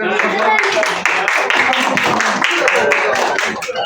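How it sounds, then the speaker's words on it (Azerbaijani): A lyceum class of students applauds themselves during a history and informatics lesson, with rhythmic clapping running throughout under loud, overlapping voices. "Gəl özümüzü alqışlayaq"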